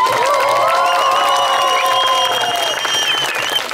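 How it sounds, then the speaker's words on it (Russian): A crowd at a Russian strongman show in Saratov applauds and cheers a strongman loudly and continuously, with whistles and shouts rising over dense clapping that holds steady throughout. "Ваши аплодисменты."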